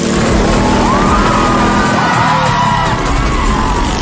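A racing crowd roars and whoops continuously at a loud, steady level, with engine noise mixed beneath the cheering.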